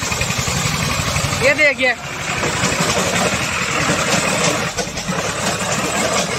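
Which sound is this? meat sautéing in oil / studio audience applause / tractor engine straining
tractor engine straining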